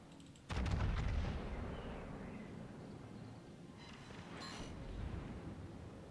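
Warship guns fire in World of Warships with a sudden heavy boom, then a long rolling rumble. Fainter mechanical creaks and a smaller secondary burst follow.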